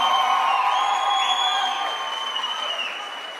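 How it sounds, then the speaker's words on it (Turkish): Wedding guests at a Turkish celebration clap and cheer together, with a few whoops and some high, ringing tones. The sound starts loud and fades gradually over a few seconds. "Hamza'ya şöyle kocaman bir alkışlıyoruz."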